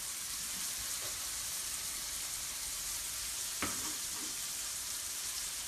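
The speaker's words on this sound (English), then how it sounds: "I'm going to throw the onion in." Onion frying in a pan for chicken cacciatore: a soft, even hiss of sizzling runs throughout, with one brief scrape or tap partway through.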